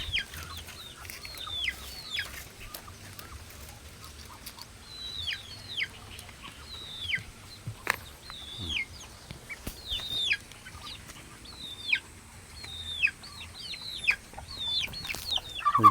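Chickens cluck and chirp repeatedly at a moderate distance, short calls scattered over a quiet outdoor background.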